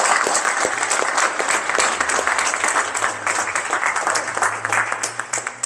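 Sustained applause from a meeting audience after a project presentation, dense steady clapping from a room full of people that gradually thins toward the end, with a low hum underneath.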